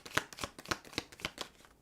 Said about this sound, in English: They just told me to stop shuffling.